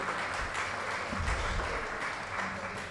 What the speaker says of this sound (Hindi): प्लीज़ ज़ोरदार तालियां हमारे परफॉर्मर्स के लिए